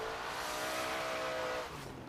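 Hard braking of a racing car in the Hot Wheels Showdown video game, with the Esprit's engine tone dropping steadily and tyres scrubbing as the back end steps out; loud, close and continuous, with no talk.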